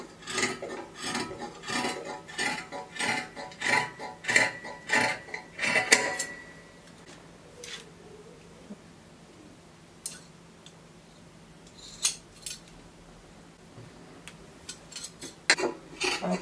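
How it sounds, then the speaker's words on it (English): Scissors snip through stretchy dress fabric at a neckline in a run of quick rhythmic cuts at close range, then slow to a few scattered snips and rustles over a quiet background. "First, we cut out the neckline."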